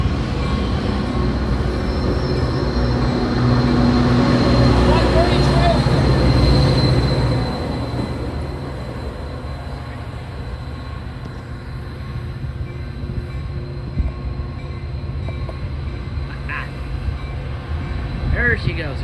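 A red Northstar passenger train rumbles past at Fort Worth Central station, a loud, steady roar of wheels and cars that swells then eases, with people talking over it.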